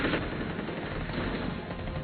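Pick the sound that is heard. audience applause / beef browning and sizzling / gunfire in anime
gunfire in anime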